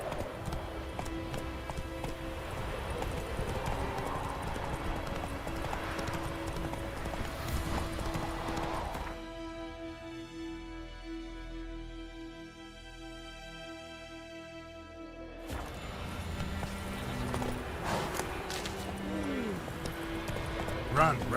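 A horse gallops in The Witcher 3 video game, with rapid rhythmic hoofbeats throughout, briefly dropping away mid-clip under a musical swell before returning, with voices talking over it.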